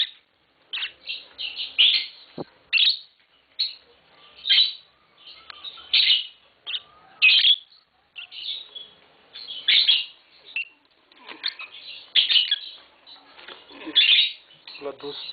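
A green Fischer's lovebird pair kept as pets, chirping and singing in bursts of sharp, high, rapid tweets and squawks, close and fairly loud with brief pauses between phrases.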